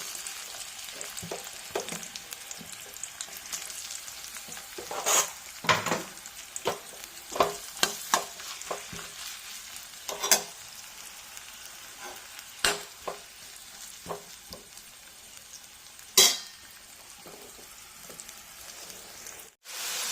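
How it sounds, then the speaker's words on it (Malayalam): Bitter gourd pieces frying in hot oil for a pickle, a steady close sizzle running throughout with frequent sharp crackles and pops scattered across the whole stretch, no voices. "വീണ്ടും അതേ എണ്ണയിലേക്ക് ബാക്കിയുള്ളതും വറുത്ത് കോരാം"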